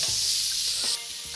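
Bacon sizzles in a skillet preheated to 375 degrees Fahrenheit, a loud steady hiss with a couple of faint spatula taps, the frying dropping slightly near the end.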